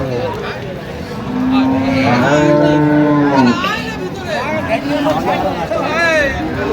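A cow lets out a long, drawn-out moo, with more lowing after it, amid a busy crowd of people talking nearby at Ambari cattle market in Dinajpur.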